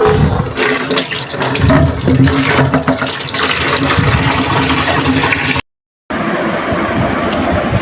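Water runs steadily from a tap while guavas are washed, a loud, continuous gushing splash broken by a brief silent gap before it resumes.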